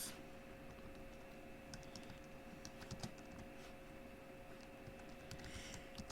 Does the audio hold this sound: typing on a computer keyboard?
yes